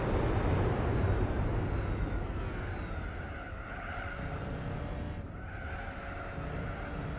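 A race car sliding sideways in Gran Turismo 4, tires squealing steadily over a droning engine for several seconds, loud and close with no talking.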